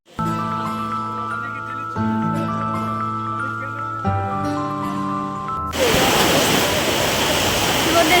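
Sea surf at Digha beach breaks in as a loud, roaring wash of noise for the last few seconds, following a stretch of steady music.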